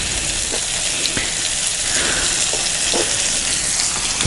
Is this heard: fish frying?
yes